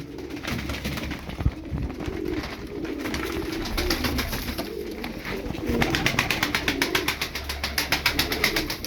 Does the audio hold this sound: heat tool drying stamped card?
no